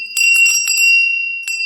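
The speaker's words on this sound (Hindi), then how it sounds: "पूजा में आप घंटी बजाने के लिए ज़रूर रखें।" A puja bell is rung by hand, bright metallic clangs in quick succession with a sustained high ringing tone, close and loud, then a final strike after a short gap.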